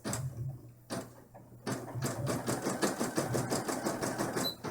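An embroidery machine satin stitching around the windows of an in-the-hoop dollhouse bag, starting and stopping in short bursts before settling into a fast, steady chatter of needle strokes, close by with no talk.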